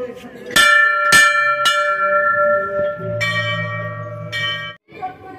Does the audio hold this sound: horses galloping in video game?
no